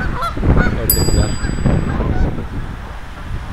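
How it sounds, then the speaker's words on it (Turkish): Loud honking duck calls ring out close by at a lake on a college campus in DeKalb, Illinois, a few sharp honks over breezy outdoor noise. "Ördekler."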